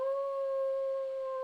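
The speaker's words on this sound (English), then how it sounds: "The howling sound." A single long, steady howl, like a dog or wolf, plays as a sound effect during a tabletop role-playing game session. It holds an even pitch, fairly clear and alone, with no talking.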